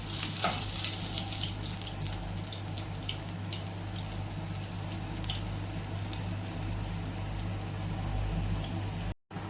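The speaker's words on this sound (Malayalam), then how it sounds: "കടുക് പൊട്ടി വരുമ്പോഴത്തേക്ക് നമ്മൾ അരിഞ്ഞു വെച്ച ചെറിയുള്ളി ചേർത്ത് കൊടുക്കാം" Chopped shallots hit hot oil with popping mustard seeds for a restaurant-style dal fry, giving a steady, close hiss and sizzle that runs unbroken with no talking.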